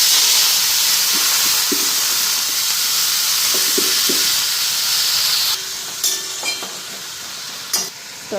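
A pressure cooker full of dal lets out a loud, steady rush of steam for several seconds. The hiss then stops abruptly, leaving quieter kitchen clatter and a few clinks nearby.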